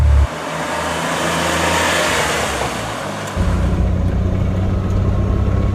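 A DeLorean sports car engine accelerates from inside the cabin, a low steady drone that swells and shifts as the revs climb, loud and close with no talk.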